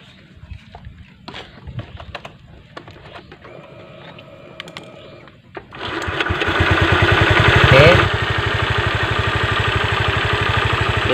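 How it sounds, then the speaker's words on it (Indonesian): A Honda Vario 125 FI scooter, under repair for a burst radiator, clicks and ticks quietly, then its engine starts around the midpoint and settles into a loud, steady idle close by, with some talk early on. "kemudian akan kita hidupin motornya"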